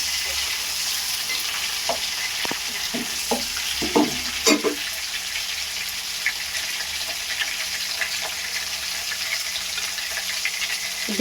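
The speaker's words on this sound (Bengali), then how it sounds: "এইভাবে আমি লাল করে ভাজবো বন্ধুরা।" Prawns fry in a pan with a steady, loud hiss of hot oil, broken by a few brief stirring clinks and bubbling pops in the early seconds, with no one talking.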